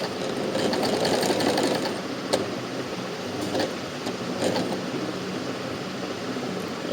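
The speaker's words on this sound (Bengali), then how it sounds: "আমি মার্ক অনুযায়ী সেলাই করব" Singer SM024 sewing machine stitching a buttonhole, a rapid whirring needle chatter running steadily at close range with a few brief pauses and clicks, no talking.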